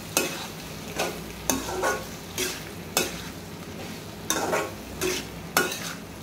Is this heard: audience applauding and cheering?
no